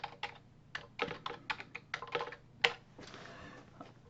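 Quick bursts of keystrokes on a computer keyboard, irregular clusters of clicks with short pauses between them, close and fairly quiet with no voices.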